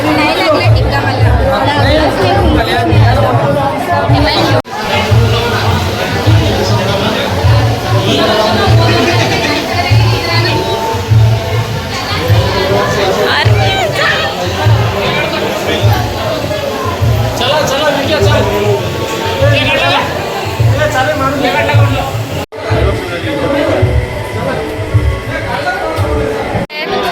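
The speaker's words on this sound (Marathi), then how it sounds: "गर्दी आहे." Busy crowd chatter fills the inside of a crowded cave temple, many overlapping voices forming a steady loud babble for the whole stretch with no single speaker standing out.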